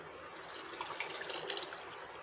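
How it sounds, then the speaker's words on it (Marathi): Rinse water from a pressure cooker poured into masoor dal, a short close splashing trickle of water, steady and fairly soft, with no voices. "आता मी कुकर धुते आणि ते पाणी त्यामध्ये टाकून देते।"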